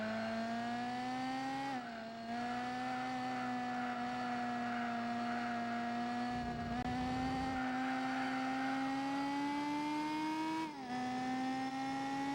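A race car engine revs and holds a steady high drone in Gran Turismo 4, its pitch dipping briefly at gear changes a few times, loud and continuous with no talking.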